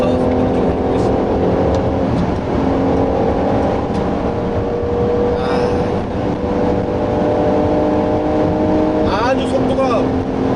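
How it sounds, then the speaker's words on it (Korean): Mercedes-AMG GLC 4MATIC, a 367-horsepower SUV, accelerating hard under kickdown in Sport Plus mode, its engine note steadily rising as it builds speed, heard from inside the cabin as a continuous loud drone. "자, 킥다운 버튼이 있고요. 자, 스포츠 플러스에서 속도를 좀 올려보겠습니다."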